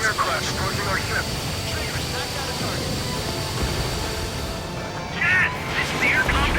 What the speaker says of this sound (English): Another enemy aircraft approaching our ship.